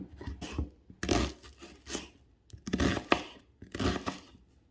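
A knife slicing onion into thin slices or mince on a cutting board for herbed fried rice, heard as irregular crisp chopping and crunching bursts in quick clusters, close and fairly soft, with no talking.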